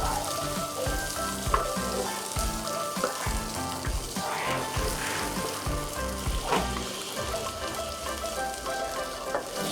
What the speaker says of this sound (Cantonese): 加適量嘅油，用薑爆香，將冬菇同埋冬菇腳分開炒熟